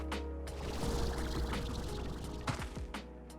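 A steady rushing waterfall in the Slime Rancher 2 video game, a continuous splashing wash of water with a few brief clicks and knocks over it.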